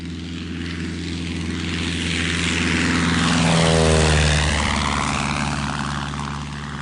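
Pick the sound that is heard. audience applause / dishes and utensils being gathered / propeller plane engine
propeller plane engine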